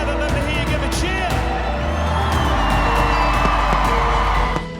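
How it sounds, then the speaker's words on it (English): A church congregation at Harvest Christian Fellowship cheers and whoops loudly and steadily, then the noise drops away at the end. "if you're excited to be back together, let me hear you give a cheer"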